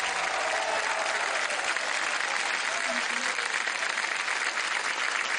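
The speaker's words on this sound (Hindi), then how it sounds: "ताली बज जाए जोर से इनके लिए।" Loud, continuous studio audience applause on a TV quiz show after a contestant wins a prize cheque, many hands clapping densely and evenly throughout, with a faint tone briefly audible beneath.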